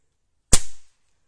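A single airgun shot fired at a board target on an outdoor range: one sharp, loud crack with a short decaying tail, alone in otherwise silence.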